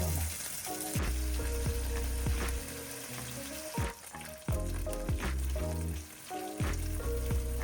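Beef and pork frying in a pan, a steady close sizzle with bursts of crackle and spatter, alongside low tonal music and occasional soft thuds.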